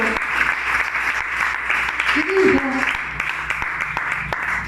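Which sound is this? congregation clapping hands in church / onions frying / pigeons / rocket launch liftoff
congregation clapping hands in church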